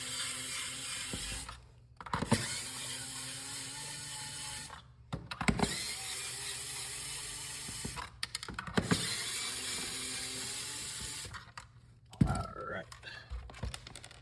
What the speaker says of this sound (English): we're going to use a game bit driver. This is the larger one that you use on consoles. And we'll go ahead and unscrew that